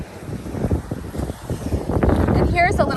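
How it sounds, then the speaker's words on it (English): Wind gusts at the Sanibel Lighthouse beach, rumbling and buffeting close to the microphone in uneven bursts that grow stronger, while a person talks over it. "it's windy"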